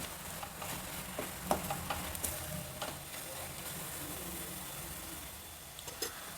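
Masala frying in oil in a pan while cooking avalakki (flattened rice) dishes, a steady soft sizzle with occasional stirring scrapes and small pops, close and moderately quiet, no talking.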